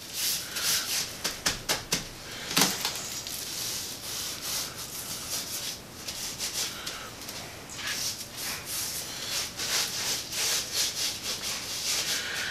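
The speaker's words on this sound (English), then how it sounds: "I'm gonna rub it in. Make sure you get the sides." Hands rubbing dry rub seasoning over a raw pork belly for bacon curing, a steady close friction with quick scrubbing strokes near the start and continuous softer rubbing after, no talk.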